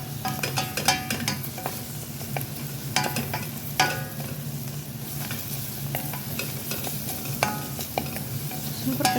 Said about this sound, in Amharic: ሽንኩርት እንደዚህ ጥብስ ብሏል። እዚህ ጋር ያዘጋጀሁትን ነጭ ሽንኩርት አደርግበታለሁ ማለት ነው።